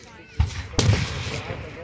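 Fireworks bursting at a farm fireworks show in Fayette County, two sharp explosive bangs close together, the second louder, with crowd voices and chatter continuing underneath.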